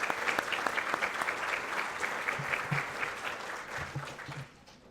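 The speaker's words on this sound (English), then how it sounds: "can I ask you to just stand up real quick and get a round of applause?" A crowd at an annual meeting applauds steadily for several seconds, dense clapping that fades slightly at the end, with no talking over it.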